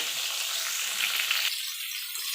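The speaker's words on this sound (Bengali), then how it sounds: "এবার পটলগুলোকে লাল লাল করে ভেজে নেব" Pointed gourd (potol) frying in hot oil, a steady close sizzle with a soft hiss that stays even throughout, no voices.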